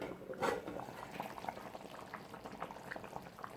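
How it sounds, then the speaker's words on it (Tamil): Mutton curry with cashew and poppy seed paste simmers in a pot, giving a soft, continuous bubbling with a brief louder burble near the start. "குழம்பு ஓரளவுக்கு நல்லா கொதிச்சாச்சு"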